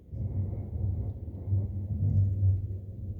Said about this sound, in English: it is actually thundering out there, and for it to thunder in Minnesota in December is really weird